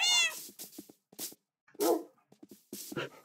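A cat meows in a video game, a short series of close, bright calls with gaps between them; dog-like yelps and whimpers mix in among the calls.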